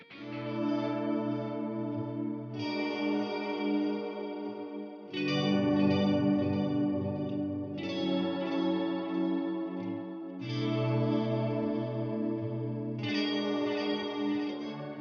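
An electric guitar through a Headrush Core amp and effects modeler strums chords that sustain for a few seconds each with chorus and echo, fairly soft and spacious, with no talking.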